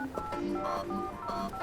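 Telephone keypad dialing tones from a cell phone, a quick run of clear beeping tones, close and fairly loud, with no talking.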